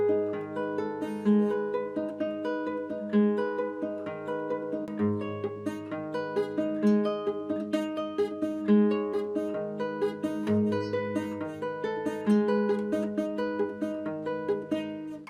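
Classical guitar playing the third movement of a piece, a flowing stream of repeated arpeggiated notes over low bass tones, played close and steady throughout with no voices.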